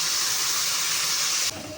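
Milk poured into a hot pan of roasted vermicelli, a loud steady steaming hiss that drops abruptly to a quieter simmer.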